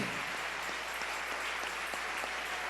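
A church congregation applauds during a Spanish-language sermon, producing a steady, dense wash of clapping with no pause.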